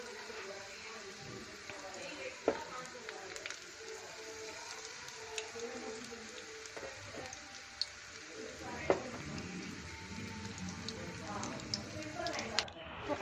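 Pakoras for Marwadi-style kadhi fry gently in oil over a low flame, giving a steady soft sizzle with small occasional pops and stirring clicks while someone talks over it.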